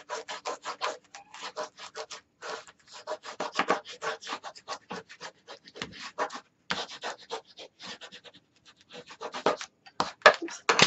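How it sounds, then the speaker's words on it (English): Paper being burnished by hand for a handmade mini album: quick, dry rubbing strokes in irregular bursts, close and fairly quiet, with short pauses between runs. "I'm going to take the opportunity now of burnishing."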